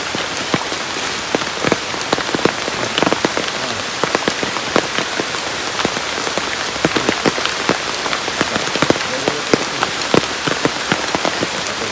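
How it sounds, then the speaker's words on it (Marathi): Heavy rain pours steadily onto surfaces, a dense and continuous patter of close drops with no voices. "मोठा पाऊस लागायचा परत"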